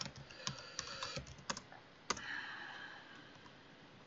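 Keys clatter on a computer keyboard as commands are typed into a King's Quest VI demake, a few quick clusters of sharp clicks with pauses between, fairly close and alone over a soft background hiss.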